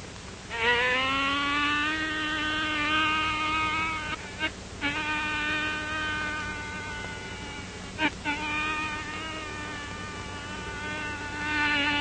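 A bee in a 1942 Western film scene, its close, steady droning buzz running for several seconds, broken by a few brief clicks.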